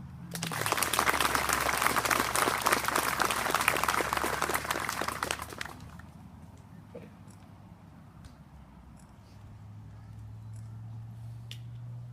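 A crowd at a Veterans Day ceremony breaks into loud, dense applause for honoured veterans for about six seconds, then it stops abruptly and a low hum with scattered faint claps remains.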